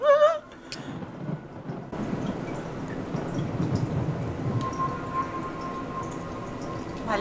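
Steady rain from a fantasy TV series scene, a broad continuous hiss and patter that swells slightly and holds throughout, with a faint high tone partway and music-like notes at the very start.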